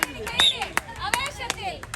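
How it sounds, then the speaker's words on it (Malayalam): Sharp claps ring out at a FIFA World Cup 2026 promotional rally procession in Koyil, roughly one every third of a second in a loose rhythm, close and bright, with an excited voice talking over them. "കൈയടി കൈയടി"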